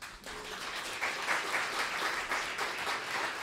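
Audience applause at an evening music series event previewing an opera company's season, steady dense clapping from a crowd throughout, fairly even and sustained without voices.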